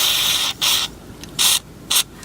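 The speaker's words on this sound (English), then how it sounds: "So what you want to do is you buy some contact cleaner, just spray it like this." Three short hissing bursts of contact cleaner sprayed onto a potentiometer inside a Sony Walkman WM-EX610, close and crisp, separated by brief pauses over quiet room noise.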